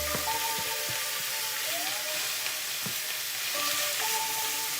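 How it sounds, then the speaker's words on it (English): Beef steak sizzles loudly as it browns in a hot pan for street tacos, a dense continuous hiss with occasional scraping and stirring clicks close up, no talking. "So you want to get your steak and brown it."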